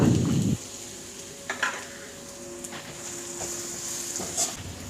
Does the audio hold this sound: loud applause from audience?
no